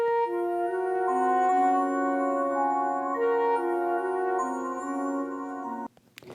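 An Alchemy synth patch in GarageBand for iOS plays a smooth sustained melody for a trap beat, held notes gliding between pitches, clean and steady, before cutting off abruptly near the end.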